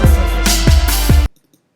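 Hip-hop beat with violins, melody and heavy kick drums plays loud and full for a little over a second, then cuts off abruptly into near silence as the playback glitches.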